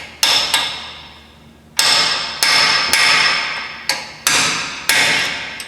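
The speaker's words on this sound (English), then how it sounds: "Use this chisel here. Just kind of tap it down." A chisel is struck with a hammer to peen the axle nut on a Honda Civic front wheel hub, producing about seven sharp metallic taps at uneven intervals, each ringing and decaying, close and alone.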